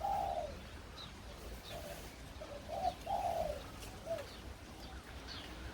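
Doves cooing in a run of low, rounded calls, several soft hoots spaced unevenly over steady background hiss, with faint higher chirps.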